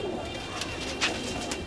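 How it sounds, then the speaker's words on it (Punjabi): Nargis pigeons, a breed kept for over twenty years, coo softly in short repeated murmurs against steady background hiss, with no talk over them. "ਇਹ ਸਾਡੇ ਨਰਗਸ ਕਬੂਤਰ"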